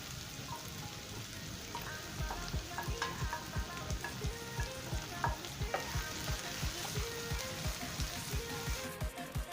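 Ginger and garlic fry with sliced bitter gourd in a Kerala-style stir fry, giving a continuous quiet sizzle broken by frequent rhythmic scrapes and taps of stirring, with no talking.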